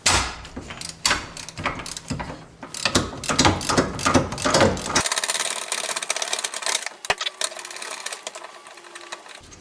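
Close rattling bursts of a 14 mm socket on an impact wrench loosening the brake caliper mount bolts during a rear disc brake job, loud repeated hammering bursts followed by a shorter steadier run.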